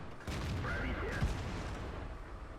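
An enemy tank gun firing and missing in World of Tanks, a single booming shot with a whistling shell passing, moderately loud against steady battlefield rumble, then fading.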